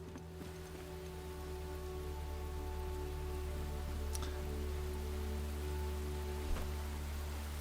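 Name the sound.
rain and thunderstorm in a video game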